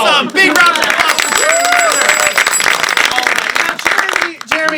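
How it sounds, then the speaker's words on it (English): Applause from a studio audience on a comedy show, with scattered clapping and cheering running under loud, lively voices that talk and exclaim throughout the short burst. "Big round of applause for"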